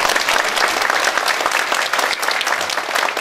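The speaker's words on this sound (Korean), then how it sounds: "박수를 한번 좀 보내주셨으면 하는 부탁을 드립니다" An audience applauds steadily at a Korean policy forum on settling the pension fund management headquarters in Jeollabuk-do, a dense, even wash of many hands clapping together with no break.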